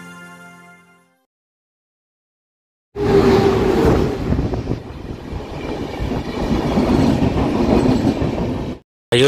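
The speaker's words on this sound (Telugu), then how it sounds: "ఇది నన్ను ఇటార్సీ తీసుకెళ్ళబోయే రైలు అండి." A train bound for Itarsi runs on the rails: after a brief quiet stretch, loud, continuous rolling rumble and clatter of the wheels fills the rest of the clip, close by, with no one speaking.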